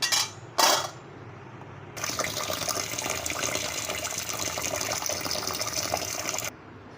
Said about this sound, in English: I will put all the grains along with the oats and these lentils. Now I will wash them.